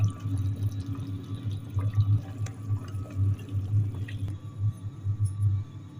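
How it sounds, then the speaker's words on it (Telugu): Water strained off boiled chicken pours steadily through a strainer, making a continuous low, gurgling splash with small irregular drips, fairly close and without talk. "వాటర్ని అయితే వడకట్టుకుందాం"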